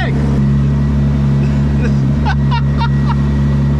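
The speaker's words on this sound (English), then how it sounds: "There's just something awesome about street driving a race car." A race car driven on public streets for the Pikes Peak Hill Climb, a loud steady engine drone close in the cabin with people talking over it.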